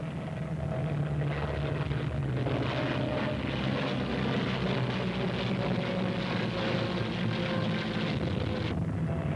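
WWII fighter and bomber aircraft fly in archival film footage, a continuous heavy droning roar of piston propeller engines that stays loud and steady throughout, rough with wind-like noise.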